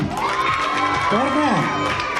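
Children at a moral school prize distribution in Chennai cheer and whoop in a crowd, shrill overlapping voices rising and falling, loud and close, with no clear clapping.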